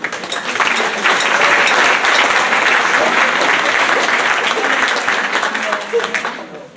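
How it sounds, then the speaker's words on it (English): Loud, dense applause from the audience at an alumni athletic hall of fame ceremony, with a few voices mixed in. It builds quickly, holds steady for several seconds and tapers off at the end. "Let's give a round of applause for them."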